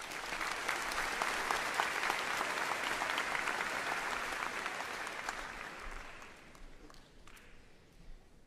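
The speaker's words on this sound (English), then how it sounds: "Everyone, a round of applause." Sustained applause from a graduation ceremony crowd at a high school, steady and dense clapping that fills the space for several seconds before gradually thinning and fading out.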